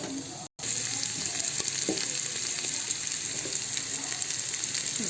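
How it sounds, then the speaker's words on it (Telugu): Onions, green chilies, garlic, mustard seeds and curry leaves sizzle steadily in hot oil in a pan, a continuous close crackling hiss with a brief break near the start. "ఫ్రై చేసుకోవాలి."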